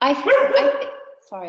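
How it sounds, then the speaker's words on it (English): A dog barks and yips in short, near bursts in a home setting, partly overlapping a person who speaks briefly. "that's my dog again"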